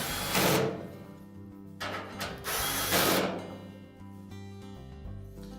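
A screw being tightened on the rear of a Whirlpool dryer during drum roller shaft repair, two short bursts of whirring driver or ratcheting tool noise separated by pauses, fairly close.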